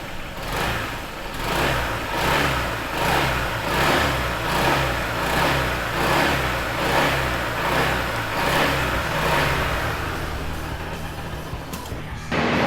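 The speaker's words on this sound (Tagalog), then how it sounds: "This is the sound of the new PCX160." A Honda PCX160 scooter engine runs close by, a steady mid-pitched hum with a pulsing, rhythmic throb that holds for the whole stretch, no talking.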